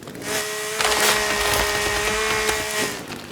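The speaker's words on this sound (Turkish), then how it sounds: "İnce olanları keseceğim." Thin trees are chopped down in the survival game The Forest, a loud, steady woody rasping and splintering sound that lasts about three seconds and stands alone without speech.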